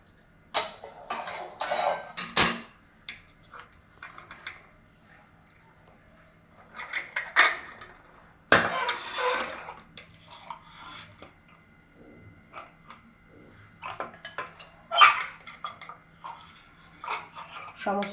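A thin knife scrapes and clinks against a metal mould while lifting out freshly steamed, still-hot idlis, giving scattered close scraping and tapping sounds with quiet gaps between.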